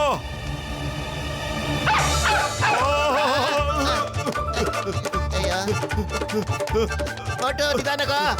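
A dog barks repeatedly in an animated Motu Patlu cartoon scene, with busy barks and whines mixed under loud, continuous background music.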